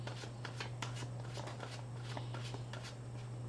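Tarot cards are shuffled close by, giving quick, irregular papery riffles and slaps over a steady low electrical hum.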